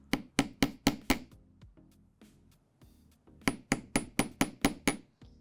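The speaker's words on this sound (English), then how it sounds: "I'll do a little bit more hammering just to give it some additional texture." A hammer strikes metal jewelry wire for texture in fast bright taps: a quick run of five blows, a quieter scattered patch, then another even run of about eight, close and clear without talk.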